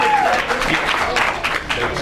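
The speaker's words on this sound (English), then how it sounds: "y'all give him a round of applause" An audience at a live concert applauds for a performer, a short stretch of crowd clapping mixed with voices and cheering.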